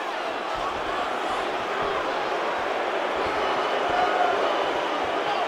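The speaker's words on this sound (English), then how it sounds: "Crowd a little bit restless" Restless arena crowd in the EA Sports UFC 5 fighting game, a dense continuous murmur of many voices with scattered thuds, holding at an even, fairly loud level throughout.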